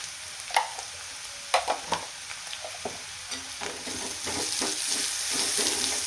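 Cabbage being stir-fried in a pan with salt, crushed peanut powder and red chilli, giving soft sizzling and scattered scraping stir strokes, steady and close, with no talking.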